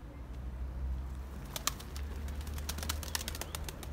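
Pigeons take flight outdoors, with a faint flurry of wing flaps and short bursts of fluttering over a low background hum; the birds sound fairly distant.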